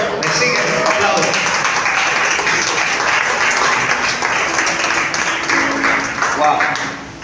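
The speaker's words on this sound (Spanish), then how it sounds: "Aplausos." Church congregation breaking into loud, sustained applause during a sermon, close and dense clapping that holds steady and tapers near the end.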